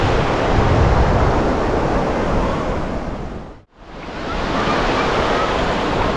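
Sea waves wash in at Bakkhali beach in West Bengal during ebb tide, a loud broad surf roar with wind, steady except for a short cut dip midway.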